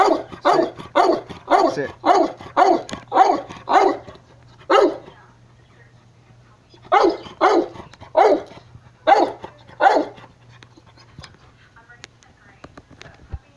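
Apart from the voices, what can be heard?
dog barking loudly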